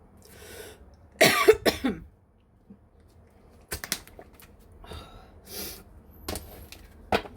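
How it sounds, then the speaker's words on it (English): A close coughing fit after a drink went down the wrong way: a couple of harsh bursts, a pause, then more scattered coughs and throat clearing with heavy breaths. "The drink went down the wrong way and I had a coughing fit"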